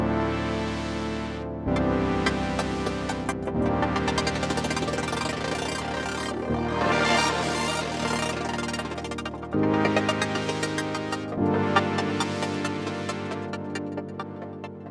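Granular processor output from the Efx FRAGMENTS effect, dense shifting layers of chopped tonal grains changing character every couple of seconds, loud and continuous with no voice.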